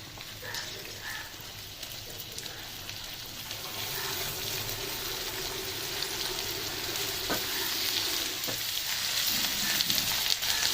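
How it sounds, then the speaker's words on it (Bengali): Ginger garlic paste fries with chicken skin in a pan: a steady close sizzle and crackle that grows slightly louder over about eleven seconds, with a few stirring scrapes. "আদা রসুনটাকে ভালো করে ভাজতে হবে।"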